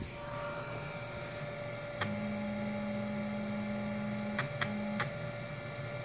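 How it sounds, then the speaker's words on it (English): Stepper motors on a CNC mill whine with steady tones that shift pitch as the axes move, interrupted by brief clicks, over a constant background hum. "stepper motors doing their little thing, going all which ways"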